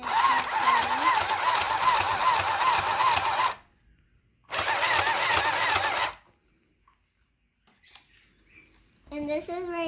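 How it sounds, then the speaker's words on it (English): A child's toy sewing machine whirs loudly for a few seconds, stops briefly, then runs again before falling silent; a voice briefly follows at the end. "I'm going to start sewing"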